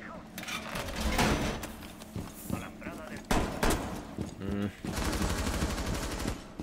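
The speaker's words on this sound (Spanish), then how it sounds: "Se están disparando, tío." Gunfire rattles in Rainbow Six Siege in the Burnt Horizon map, with rapid bursts and single shots coming in uneven clusters at close to medium range, and talk runs underneath.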